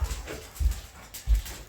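A puppy whimpers and pants in short, soft bursts about every half second, close by and fairly quiet, with no talk over it.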